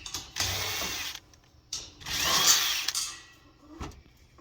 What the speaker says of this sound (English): So 7/16 socket, and you can remove these nuts here.